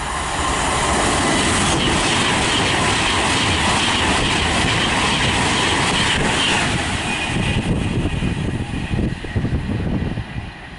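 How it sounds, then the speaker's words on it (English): A London Euston to Glasgow Central express on the West Coast Main Line at Nuneaton roars steadily past close by with a loud, sustained rumble and hiss, easing slightly toward the end. "passing through now is a service from London Euston to Glasgow Central."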